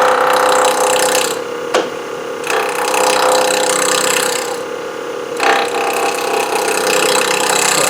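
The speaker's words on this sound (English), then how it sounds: "Just going to use a spindle roughing gouge." Wood turning on a lathe with a spindle roughing gouge: loud, close, continuous rough cutting noise over the motor hum, with brief pauses where the gouge lifts off the spinning workpiece.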